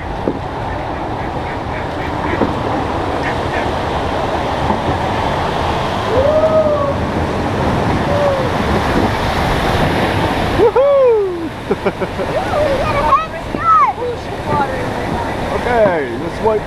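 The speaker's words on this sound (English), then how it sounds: "we've got to go down a really big chute now. There's another waterfall coming up." Rushing whitewater roars steadily as a canoe runs down a river chute toward a waterfall on La Dronne, loud and close, with people shouting and calling out over the water.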